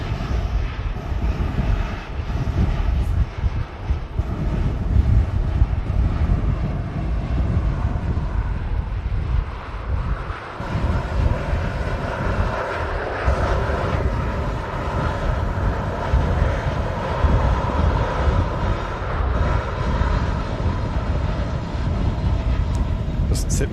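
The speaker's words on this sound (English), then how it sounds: "And Ryanair from Rome about to touch down." A Ryanair airliner from Rome touches down on runway 23 right at Manchester Airport in strong winds, its jet engines giving a steady, loud roar with wind buffeting the microphone throughout.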